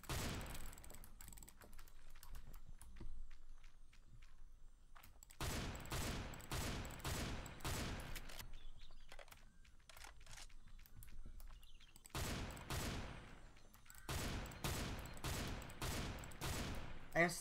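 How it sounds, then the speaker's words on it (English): Gunfire in the video game Island Royale comes as rapid bursts of automatic shots in several clusters separated by quieter gaps, close and sharp. "Does this guy, like, not see me shooting at him or something?"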